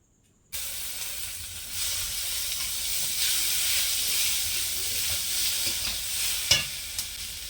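Vegetables (onions, tomatoes, green chillies) fry in hot oil, starting suddenly with a steady, close sizzling hiss that continues throughout, broken by a few sharper crackles near the end.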